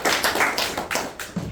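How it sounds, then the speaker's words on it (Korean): A seminar audience at a Korean panel discussion gives a short spell of clapping, with a handful of hands striking in an uneven, fairly sparse rhythm close by. "큰 박수를 주시기 바랍니다"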